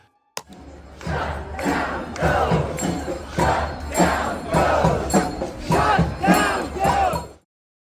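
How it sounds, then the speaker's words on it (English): Protest crowd in Indiana chanting against DOGE outdoors, a loud rhythmic group chant repeating in steady bursts for several seconds after a sharp opening thump, with a low constant rumble underneath. "The group becomes more vocal, chanting, "Shut down DOGE,""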